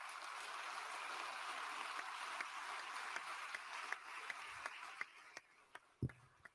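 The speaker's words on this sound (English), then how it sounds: "Give them another round of applause." Applause from a debate audience for party leadership candidates, a soft, distant, continuous patter of clapping that thins toward the end into a few scattered louder claps.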